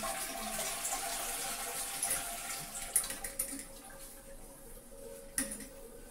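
Water runs steadily from a bidet shower spray fitted to a toilet seat, a soft continuous hiss and splash, with a few small knocks and splashes over the flow.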